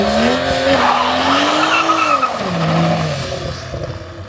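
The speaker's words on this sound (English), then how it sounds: "First time trying to do a donut, a burnout with not rotor in a manual" A manual BMW 135i drift car on wet pavement, its tires squealing loudly in a long continuous wail with rising and falling pitch during a burnout and donut, engine roaring underneath, close by.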